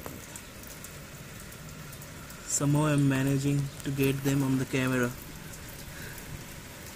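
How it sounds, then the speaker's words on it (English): Heavy rain pours steadily during the rainy season in Kolkata, a constant hiss of drops on surfaces under a voice speaking briefly. "It's raining"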